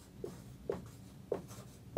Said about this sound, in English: I'm going to write that here.